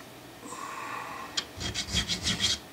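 Abrasive paper at 150 grit rubs over Stratocaster guitar frets in a run of quick back-and-forth strokes, close and moderately loud, after a quiet start.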